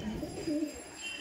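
Madrasi pigeons, male and female birds kept as a pair, give a soft, low cooing close by, a few rolling coos against a quiet background with no talk.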